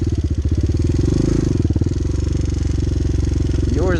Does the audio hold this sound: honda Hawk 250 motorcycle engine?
yes